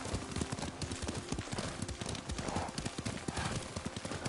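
Horse hooves clip-clop in a quick, steady gallop rhythm as a rider travels on horseback in the video game Ghost of Tsushima, loud and close with a busy background beneath.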